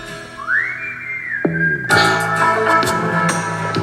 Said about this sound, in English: They're all whistling.